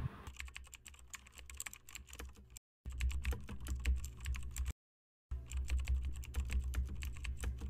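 Typing effect added in CapCut: rapid, crisp key clicks in continuous bursts, broken by two brief silent gaps, with a low hum beneath and no voices.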